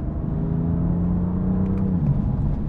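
A BMW M4 in Verde Mantis is driven along, its engine a steady close rumble that swells slightly near the end, with no talking.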